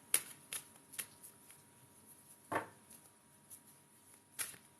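Crisp riffling bursts of tarot cards being shuffled, several quick separate shuffles spaced irregularly, close and clear against a quiet background.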